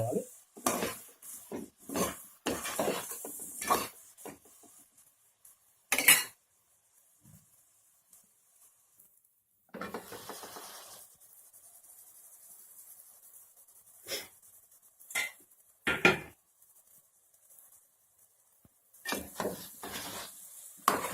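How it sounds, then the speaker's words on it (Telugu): Raw banana and tamarind curry with turmeric is stirred in a pan, making scattered metal spoon scrapes and clinks against the pan in short bursts, separated by quiet gaps. "ఇందులో ఒక 1/2 టేబుల్ స్పూన్ పసుపు వేసుకుందాం. వేసుకుని శుభ్రంగా కలయపెట్టుకోవాలి."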